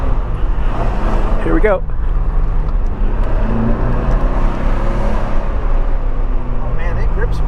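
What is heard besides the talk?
1985 Porsche 928 S Euro car driving and accelerating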